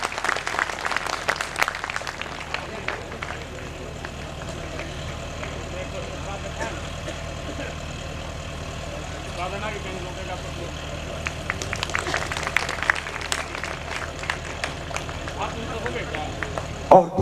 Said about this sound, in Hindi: एक बार जोरदार तालियों से इस्तकबाल होना चाहिए।